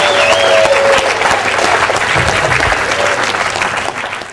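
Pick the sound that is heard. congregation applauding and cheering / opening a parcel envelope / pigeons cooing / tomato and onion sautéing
congregation applauding and cheering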